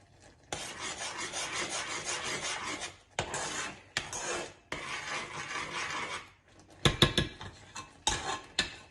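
A spoon rasps and scrapes around a pot of honey sauce, steady scraping strokes broken by short pauses and a few clinks against the metal, close and alone with no voices.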